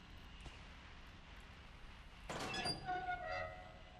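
Train rolling past in What Remains of Edith Finch, a faint rumbling rise with squealing metallic wheel tones that swell midway and linger, distant and low under quiet ambience.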